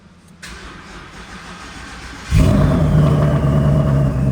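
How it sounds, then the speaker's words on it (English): A 1000hp Ford Mustang engine cranks and fires up from a cold start, settling into a loud, steady rumble close by, with no talking. "let's go fire this Mustang up, shall we? All right, cold start."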